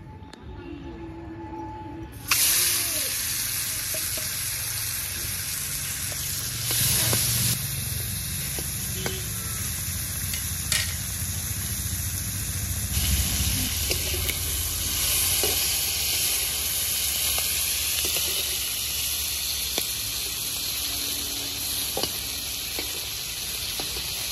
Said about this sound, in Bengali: চিংড়ি মাছ তো ভালো করে ভেজে নিয়েছি।